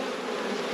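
Honeybees buzz densely inside a two-story red hive whose boxes are packed with bees and brood, a close, steady, continuous drone.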